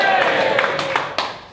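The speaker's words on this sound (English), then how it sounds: "Give me a cheer if you've heard of me." A comedy club audience at a Comedy Unleashed night gives a short burst of cheering mixed with a few claps, fading quickly over about a second and a half.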